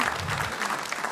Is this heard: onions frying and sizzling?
no